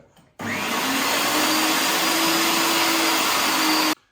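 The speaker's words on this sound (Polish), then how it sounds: "szynkę mielę na, na sitku 5 mm" An electric meat grinder minces ham through a 5 mm plate, giving a steady, loud motor whine that starts abruptly and runs unbroken for about three and a half seconds before stopping.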